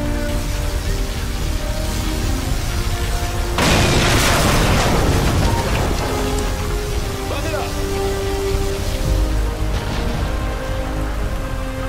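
Particle cannon strike in the game C&C Generals Zero Hour: a loud broadband blast bursts in mid-clip, then rumbles and crackles away over a continuous noisy battle bed.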